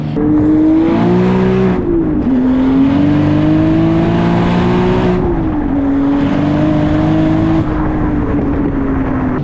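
A big-turbo manual BMW M3 with hood exit exhaust accelerates hard through several gear changes, its loud exhaust note rising and dropping between shifts, close by and without talk.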